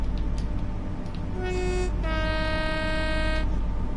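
A two-tone train horn sounds in Train Sim World 4: a short low blast followed by a longer, higher sustained tone, loud and close over a steady rumbling engine drone, with no talking.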